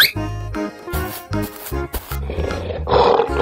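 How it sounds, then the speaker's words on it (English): A lion roars in a children's cartoon of transforming animals, the loud roar rising toward the end over a bouncy music track with percussive effects. "Lion."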